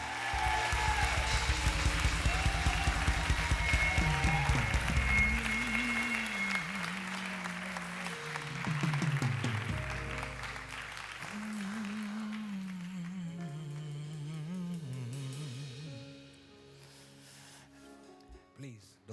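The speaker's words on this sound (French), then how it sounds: "Si vous êtes béni, applaudissez Jésus de toutes vos forces." Church congregation applauding Jesus together at the close of a French-language worship service, loud sustained clapping under a musical drone, with a voice speaking over it before the clapping thins out near the end.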